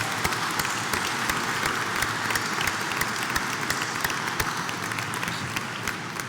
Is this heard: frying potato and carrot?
no